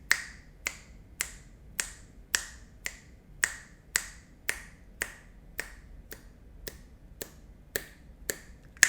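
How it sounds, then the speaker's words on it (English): Finger snapping keeps count for breathing reps, about sixteen crisp, close snaps at a steady, slightly quickening pace, clear and alone with no talk. "I'll do the count for 20 reps by clapping my fingers like this"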